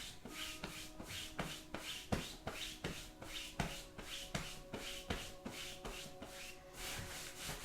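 Hands swipe rhythmically over skin during a lymphatic massage workout, a steady series of soft, close brushing strokes repeating about twice per second with no talk.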